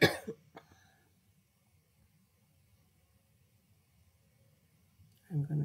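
A couple of short, harsh coughs and a throat clear at the start, then near silence before another brief rough throat sound at the end.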